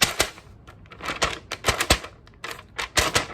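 A paper pop sound effect: a rapid, irregular string of sharp, crackling snaps and pops, fairly loud and close, with no talk.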